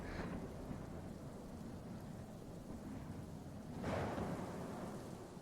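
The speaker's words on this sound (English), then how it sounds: "it was a dark and stormy night." A thunderstorm with steady heavy rain inside a music track, with a low rolling thunder rumble near the start and another swelling crack and rumble near the end, loud and continuous without voices.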